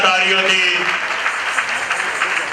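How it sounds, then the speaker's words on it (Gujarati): Devotees at a Vadtal temple festival for saints applaud loudly, a dense, steady clatter of many hands that swells in after a brief voice and fills the rest of the moment. "આપણે જોરદાર તાળીઓથી,"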